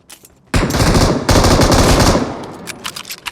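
Video game gunfire: loud, rapid automatic bursts in two long sustained volleys with a brief break between, then scattered quieter shots trailing off.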